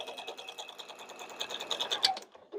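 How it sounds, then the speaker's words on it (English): A sewing machine runs a quilt block seam across a puma muzzle section, a fast even patter of needle strokes that ends abruptly with a brief click. "we're going to sew on across here"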